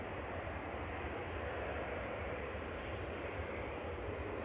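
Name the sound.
Qatar Airways airliner taxiing out at Manchester Airport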